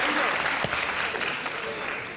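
An audience at a four-round boxing match claps for the two boxers, a dense wash of applause that holds steady then slowly thins, with a commentator's voice talking over it.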